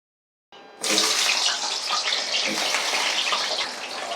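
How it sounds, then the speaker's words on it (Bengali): Diced potatoes dropped into hot oil in a wok, a sudden loud hiss that bursts in after a moment of silence and keeps roaring steadily close by. "তেল গরম হয়ে গেলে আলুগুলোকে এখন তেলের মধ্যে ছেড়ে দেবো"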